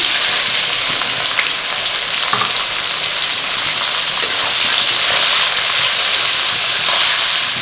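Chopped onions with bay leaf, cloves, cardamom and cinnamon frying in oil for a mutton curry, a loud, steady close sizzle running throughout with a few faint stirring clicks.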